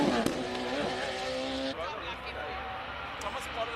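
A high-performance single-seater race car at the Simola hillclimb, its engine note climbing in a rising harmonic whine for about two seconds before fading away, with a busy mix of wind and crowd noise underneath.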